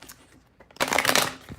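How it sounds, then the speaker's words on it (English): A deck of tarot cards gets a single riffle shuffle: a soft handling rustle, then a dense, fast crackle of cards that dies away after about a second. "So one more shuffle."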